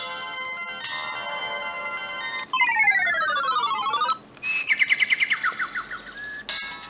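Alarm ringtone previews on a Samsung C100 mobile phone play in turn: a steady electronic tone, then rapid descending chirping sweeps, then a bouncing trill of short beeps, all clear and close with no talk.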